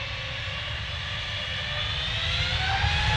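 Jet engine roar from an EasyJet airliner at Manchester Airport, a steady broadband rumble with rising whining tones that swells slightly toward the end, heard at a distance with no voices.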